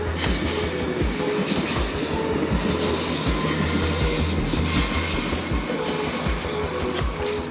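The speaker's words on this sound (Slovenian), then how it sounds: "Da pa imamo novejši vlak," A newer train passing on a railway, a loud, close, continuous rumble with rhythmic clickety-clack of wheels over rail joints and a metallic rolling roar throughout, no talk.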